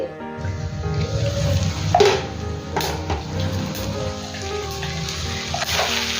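Bitter gourd curry with tomatoes cooks in a covered pan, giving a steady close sizzle and bubbling simmer with faint clinks throughout.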